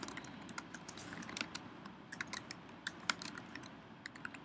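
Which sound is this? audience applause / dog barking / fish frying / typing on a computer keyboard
typing on a computer keyboard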